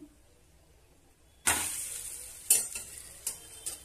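Millet dosa cooks on a pan, opening quietly before a sudden scrape and sizzle as it is turned. A few brief scraping strokes follow close up, with no speech.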